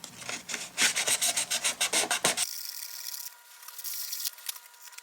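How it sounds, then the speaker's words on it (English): Fine grit sandpaper rubbed by hand over an erased spot on a model railroad freight car, a rapid run of close, rhythmic rasping strokes, then softer, smoother brushing. "I use the really fine grit sandpaper, and I just kind of go over the spot where I erased"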